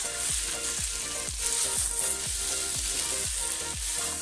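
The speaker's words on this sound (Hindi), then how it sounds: "तो जब तक तेल ना रिलीज करे सब्जी को भूनते रहना है" Pointed gourd curry with masala frying in oil, a constant close sizzle broken by steady, rhythmic stirring strokes about twice a second, with no one speaking.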